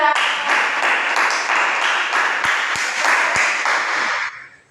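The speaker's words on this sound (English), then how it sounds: "Give applause for Tiara" Students applauding a classmate in a classroom, a bright, dense burst of many hands clapping together that holds steady for several seconds, then quickly fades out.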